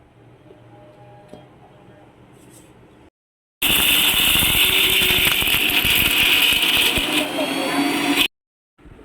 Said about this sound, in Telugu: దీన్ని ఇప్పుడు మిక్సీ జార్లో ట్రాన్స్ఫర్ చేసుకొని మిక్సీ పట్టుకోవాలన్నమాట